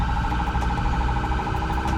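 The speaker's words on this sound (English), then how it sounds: "Just change that siren again to the phaser, just as that attention grabber." A private ambulance's siren switched to the rapid phaser tone, a steady, loud, warbling electronic whine that fills the whole clip with no talking.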